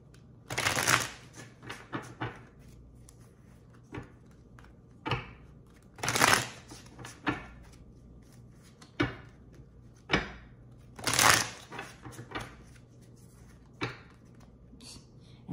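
Tarot cards shuffled by hand, giving sharp riffling bursts and softer flicks and taps that come in irregular groups over a quiet background.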